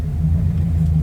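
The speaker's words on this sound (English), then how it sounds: "Definitely need my clutch release bearing, throwout bearing." A low, steady droning rumble with a faint whirring hum comes from a 2016 Scion FR-S with a worn clutch throwout bearing, heard close and continuous for about a second.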